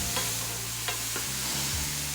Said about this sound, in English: And stir that in, and you're gonna cook that for about 2 minutes.